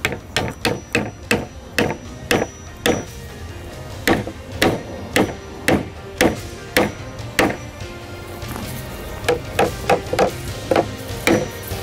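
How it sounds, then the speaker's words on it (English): A hardwood wedge is hammered into a tusk tenon joint, giving a long run of sharp, close wooden knocks in a fairly regular rhythm, some strikes quicker and lighter, with a brief pause partway through. "We'll put the hardwood wedge in,"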